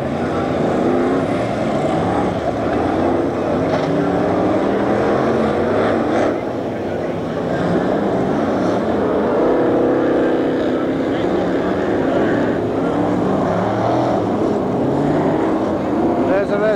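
Stock cars race around the Long Eaton track at a 1990 semi-final meeting, producing a dense, sustained engine roar with passing swells, while a commentator talks over it.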